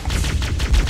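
Rapid automatic gunfire from the video game Halo: Combat Evolved, loud, close bursts running continuously through the moment with a dense low thump under each volley.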